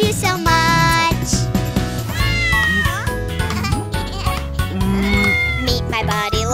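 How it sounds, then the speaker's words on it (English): A cartoon cat meows in a cheerful children's Halloween song, its calls woven into loud bouncy music with singing voices throughout. "Meet my buddy, lovely buddy, my kitty Boo."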